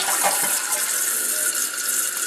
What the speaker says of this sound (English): Turn the water back on. The tank fills